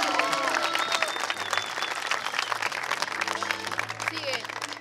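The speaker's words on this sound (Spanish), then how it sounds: "¡Aplausos para Saella!" A crowd in Uruguay applauds a performer named Saella, with clapping mixed into shouting voices and whistles, a busy, lively roar with people talking and calling out throughout.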